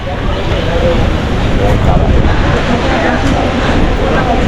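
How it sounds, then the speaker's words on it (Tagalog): Strong, steady wind in Spain roars across the whole clip, a dense broadband rush with a low rumble, loud and continuous from start to finish. "Lakas ng hangin, oh."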